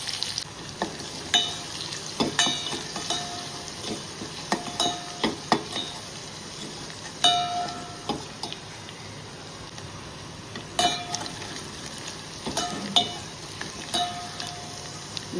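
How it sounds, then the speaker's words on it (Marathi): Curry leaves, chillies and garlic fry in a pan for a yellow dal tadka, a steady soft sizzle broken by frequent clinks and scrapes of a spoon against the metal. "कढीपत्ता, मिरची, लसूण व्यवस्थित शिजवून देऊ आपण आता।"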